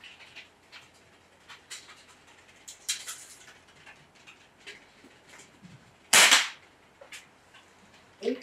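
An Air Venturi Avenger bullpup PCP air rifle shooting H&N Terminator pellets in a backyard gives one sharp, loud crack near the middle, standing out against quiet outdoor ambience with small clicks and taps.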